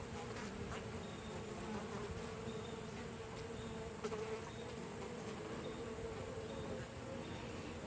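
Honey bees buzz steadily and densely throughout a midsummer hive inspection, a continuous close swarm drone with no voices over it.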